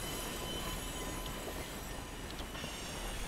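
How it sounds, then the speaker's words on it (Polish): A train rumbles past on tracks in the video game Sniper Ghost Warrior 2, a steady mechanical roar with squealing wheels, loud and continuous, with no voices. "bo słychać hałas mechaniki, widać tory, więc to chyba pociąg jedzie"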